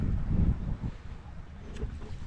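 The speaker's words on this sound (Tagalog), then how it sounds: "lakas ang hangin talaga dito" Strong wind gusting at a fish pond stocked with milkfish and tilapia: loud buffeting wind noise that swells at the start, then eases into a lower rush, with no voices.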